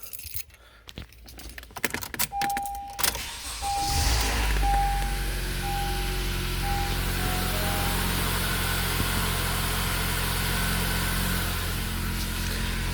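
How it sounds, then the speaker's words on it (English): Keys jangle and rattle, then a car engine starts and settles into a steady, low idle that hums on to the end. "Then quickly turn off the engine."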